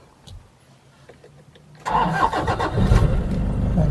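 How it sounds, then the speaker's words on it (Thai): A used Toyota Vigo pickup truck's engine cranks and catches after a quiet start, then settles into a loud, steady idle close by, with no talking. "เดี๋ยวลองสตาร์ทนะครับ"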